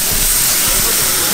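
Boneless, sliced and seasoned pork loin sizzles loudly in a hot pan over fire, a dense, steady hiss that stays close and constant throughout.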